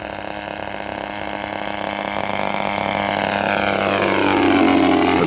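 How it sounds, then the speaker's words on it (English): A 31cc twin-cylinder gas engine on a large model airplane drones steadily, its pitch shifting and swelling louder toward the end as a passing tractor's engine tone bends through it. "now the tractor will go away and we will hear the plane"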